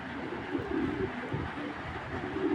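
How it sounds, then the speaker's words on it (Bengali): Pigeons kept as fancy breeds (checker, grizzle and silver varieties) coo softly in short repeated murmurs close by, over a steady low background hum, with no talking. "মাশাআল্লাহ অনেক সুন্দর কবুতরগুলো"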